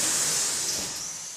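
Dense steam hiss from an industrial ironing line, a steady broad rush that holds loud and slowly eases over a moment and a half, with no voices.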